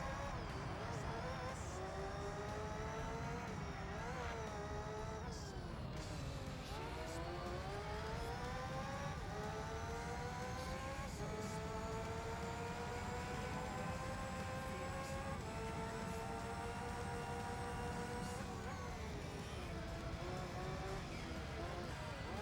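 Super GT race cars in Gran Turismo 3 scream past with high revving engines that rise and fall through gear changes, steady and loud throughout, with a voice talking over them at times.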